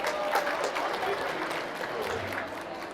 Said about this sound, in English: Please, let's applaud